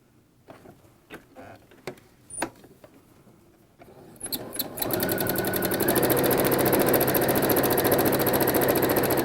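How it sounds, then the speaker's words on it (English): A sewing machine stitches a diagonal quilting line on a quilt with appliqué, first a few light taps and clicks, then a steady fast close whir that runs without a break to the end. "I'm going to stitch from this corner in and do my opposite"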